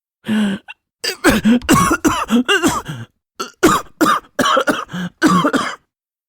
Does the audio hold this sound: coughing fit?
yes